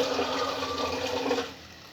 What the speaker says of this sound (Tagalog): Hintayin lang po natin mapuno itong tubig na kinakargan namin.